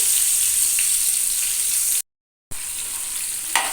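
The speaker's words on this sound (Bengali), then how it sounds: "পটলগুলোকে একটু লাল করে ভাজতে হবে" Pointed gourds frying in mustard oil, a steady close hiss of sizzling broken by a short silent gap, with a small clink near the end.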